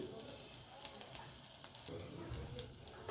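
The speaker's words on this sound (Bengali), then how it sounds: "ধীরে ধীরে ভাজবো আমি" Steady sizzling of drumstick-flower fritters frying in hot oil, a continuous crackling hiss with brief pops, fairly quiet and close.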